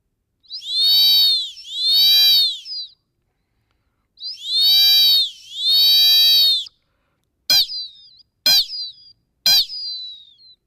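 A wind instrument gives shrill, piercing cries imitating a highland eagle: two pairs of long wavering screeches, then three short sharp bursts, loud and alone.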